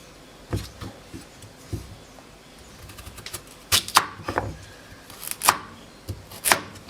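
A knife chopping carrots on a cutting board in quick, uneven bursts of sharp, close taps, with short pauses between runs. No voices.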